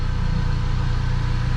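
A supercharged car engine runs with a steady, loud low rumble and no clear rise in pitch, more like a sustained rev than a climbing one.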